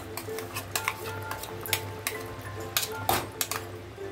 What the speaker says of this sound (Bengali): দিয়ে এখন ভালোভাবে নাড়াচাড়া করে দেবো